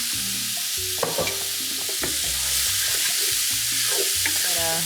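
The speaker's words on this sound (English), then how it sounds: "I'm gonna add in a little bit of the oil because it looks really dry. Get them moving." Onions sizzle steadily as they fry in oil in a pan for Cuban arroz con pollo, with a spoon stirring them in repeated scraping strokes, close and alone.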